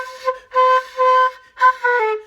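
A breathy, slightly rough quena flute tone sounds in a few short wavering notes with pauses between, close and alone.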